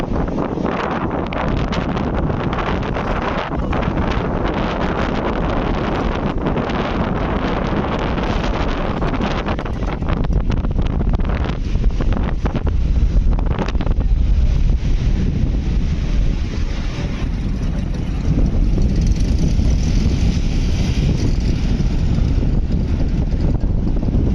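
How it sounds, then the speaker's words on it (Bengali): Strong, steady wind roars across the microphone on a beach with a constant low rumble, surf noise mixed in beneath, no voices. "চারদিকে এত বাতাস"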